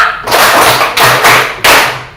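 A group claps together in a rhythmic tepuk pattern as a classroom ice breaker, several close, loud bursts of many hands at once with short gaps between them.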